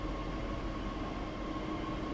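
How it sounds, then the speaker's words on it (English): An ICE train in the Train Sim World 5 simulator gives off a steady, close rumble with a faint tonal hum, continuous and unchanging, with no talk. "One thing I've always loved about Train Sim World is the sound and details they put into the locomotives"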